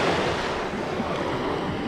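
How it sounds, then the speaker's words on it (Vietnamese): Steady surf washes onto the beach at Orange Beach, Alabama, a continuous broad roar of breaking waves with some wind buffeting the microphone and no voices. "Quay dọc cái bờ biển này cho mọi người xem chơi."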